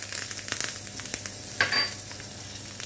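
Soft crackling and sizzling of spices frying in hot oil, with a few sharper pops, fairly quiet and close.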